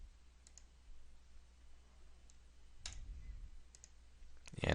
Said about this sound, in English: Clicking on the dimension.